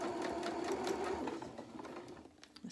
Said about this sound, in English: hold it with my awl again while the machine goes over.